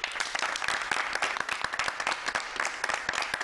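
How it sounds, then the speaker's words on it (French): Lively crowd applause on a Ramadan special television show, greeting a competitor being introduced; dense, rapid clapping with sharp individual claps standing out, loud and sustained for several seconds without speech. "On applaudit Demba Kébé."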